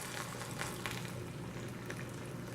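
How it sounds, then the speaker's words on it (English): Boiling water poured over sausages in a baking dish, a steady close hissing rush with faint bubbling that stays even throughout. "I'm going to cover them with boiling water."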